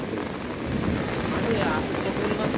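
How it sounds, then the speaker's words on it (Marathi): Heavy monsoon rain pours down at Anjap in Karjat, with the river in flood near a bridge. It makes a loud, close, unbroken roar of broadband noise that lasts the whole time. "पाणी पडतोय"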